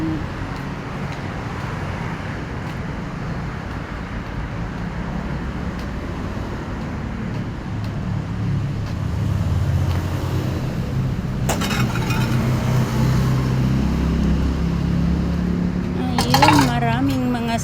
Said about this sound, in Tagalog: Maraming mga sasakyan.